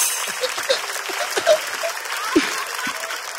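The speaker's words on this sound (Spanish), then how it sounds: "Un fuerte aplauso al público." A live comedy show audience applauds in a busy, uneven burst of clapping, with a voice talking over it and occasional louder claps standing out.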